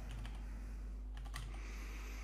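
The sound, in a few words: typing on a computer keyboard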